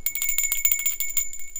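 A bright bell rings in a quick series of repeated metallic dings, close and fairly loud, with no talking.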